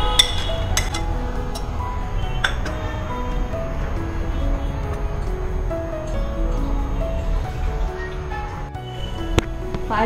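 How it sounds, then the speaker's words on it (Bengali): Cardamom pods, bay leaf and fried cashews and raisins drop into a pot of mango payesh, with occasional metallic clinks of a spoon against the vessel over a steady low bubbling and rustle. "এখন আমরা পায়েসের মধ্যে দিয়ে দিচ্ছি 4টে বড় সাইজের এলাচ, তেজপাতা, আর যে কাজু কিশমিশটা ভেজে রেখেছিলাম সেটা এখন আমরা এর মধ্যে দিয়ে দিচ্ছি"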